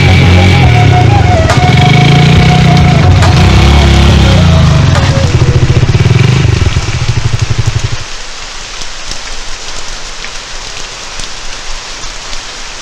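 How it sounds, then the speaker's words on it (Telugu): A motorcycle carrying two riders rolls through heavy rain, its engine rumbling steadily and close, then cutting out partway through while the rain keeps hissing alone. "కావేరి, బైక్ స్కిడ్ అవుతుంది,"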